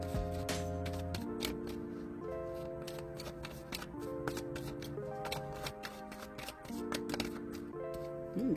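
Tarot cards are shuffled close up, with rapid soft riffling and flicking clicks over steady background music, no talk.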